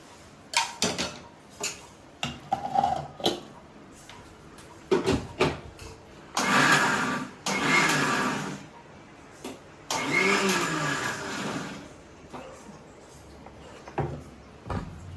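Kitchen mixer grinder whirring in short bursts as it grinds dried red chillies and tomatoes for chutney, with a few longer runs and clatters between pulses, fairly close.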